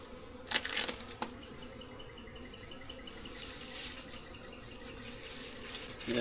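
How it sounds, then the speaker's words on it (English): A full swarm of honey bees hums inside a swarm trap, a dense, steady buzzing drone heard up close, with a few brief knocks and rustles near the start and end. "that is a full swarm of bees right there"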